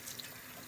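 Cool tap water runs steadily over synthetic wig strands at a sink, a soft, even hiss of flowing water heard faintly up close with no speech.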